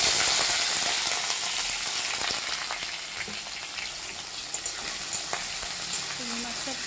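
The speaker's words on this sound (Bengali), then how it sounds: "চিংড়ি মাছটা দিয়ে দিলাম।" Prawns frying in a pan with nigella seeds and dried chili for a taro stolon curry, giving a loud, dense, continuous sizzle with small scrapes and clinks of stirring, no voices.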